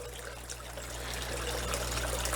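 A small waterfall trickles steadily into a 125-gallon fish tank with a constant, gentle splashing and bubbling wash over a low steady hum of aquarium equipment.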